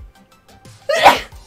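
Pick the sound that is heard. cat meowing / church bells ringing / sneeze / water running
sneeze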